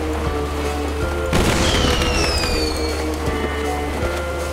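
Fireworks in the video game DeathSpank go off as a sudden loud boom followed by whistling, rising streaks and crackling over steady game background noise, no speech.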